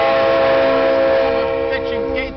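Train horn sounding at a railroad crossing where the gates have come down, a loud sustained multi-tone blare with rumbling rail noise beneath, holding steady then fading slightly at the end.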